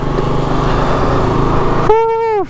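A KTM motorcycle engine runs loud and close with a steady throbbing drone, then cuts off near the end while a rising, bending horn-like tone sounds over it.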